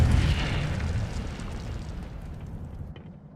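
Incendio fire spell cast in the video game Hogwarts Legacy, a loud rushing fiery burst with a deep boom that starts at full force and slowly fades over about three seconds.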